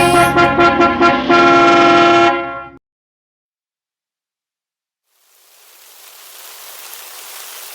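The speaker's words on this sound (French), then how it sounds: "Oh, il pleut!" Steady, soft hiss of rain builds gradually after a musical passage and a moment of silence, growing into a continuous patter.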